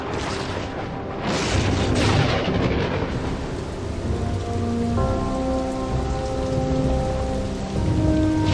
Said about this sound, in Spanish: Nubes tormentosas prometen la llegada de la lluvia necesaria.